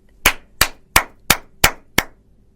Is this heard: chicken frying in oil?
no